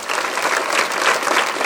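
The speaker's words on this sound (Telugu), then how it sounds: "అందరూ గట్టి క్లాప్స్ కొట్టండి" An audience at a Padha Pooja ceremony at Jayabharathi School claps loudly and steadily, a dense, even burst of applause with no talk over it.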